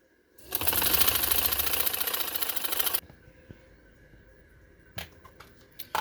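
A sewing machine runs fast and steady for a couple of seconds, stitching lace onto a shirt neckline, then stops abruptly, followed by a few faint clicks and handling knocks.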